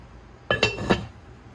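A lid set onto a cooking pot of green beans with potatoes and smoked meat gives two or three quick clinking clatters in close succession, close and fairly clear against a quiet room.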